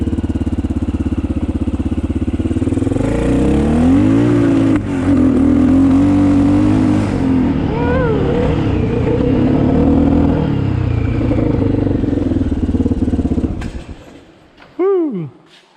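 A broken four-wheeler ATV engine runs loud and close for a ride, droning steadily with rising and falling revs, then sputters and cuts out near the end as if starved of fuel, leaving a brief faint tail.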